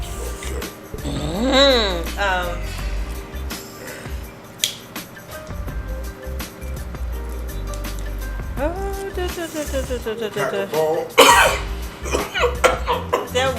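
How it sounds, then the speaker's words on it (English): Repeated harsh coughing fits after smoking, loud and close, come in several bursts, with throat clearing and people talking in between. "That shit makes y'all cough like that."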